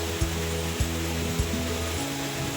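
A river rushes near a suspension bridge at the entrance to Kanchenjunga National Park by Yuksam, a constant loud surging roar with a few soft low thumps and a faint hum underneath.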